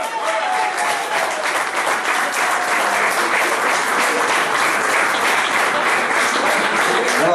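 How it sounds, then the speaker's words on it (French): An audience at a cycling club dinner applauds its president, with loud, sustained clapping from a large crowd that fills the whole stretch without a break. "je vais demander d'applaudir à tout casser notre"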